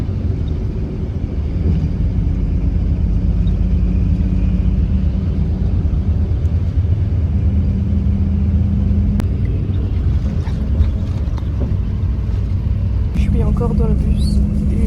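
A sleeper bus travels a winding mountain road with its air conditioning running hard, a constant low engine rumble and road drone from inside the cabin, with faint rattles and a few brief knocks toward the end.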